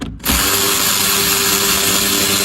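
A power tool whirs loudly and steadily, close by, as it drives out the last bolt of the third brake light on a 2024+ Ford Mustang, starting after a brief pause.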